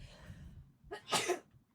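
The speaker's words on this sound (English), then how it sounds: "I'm going to sneeze." A single close sneeze: a brief sharp intake of breath followed by an explosive burst, then quiet.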